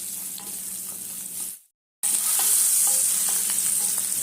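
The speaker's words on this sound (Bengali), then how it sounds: "ফোড়ন কম আঁচে হালকা করে ভেজে নিচ্ছি" Whole garam masala, bay leaf, diced onion and green chilli frying in oil over low heat, a close steady sizzle with stirring that cuts out for about half a second before resuming.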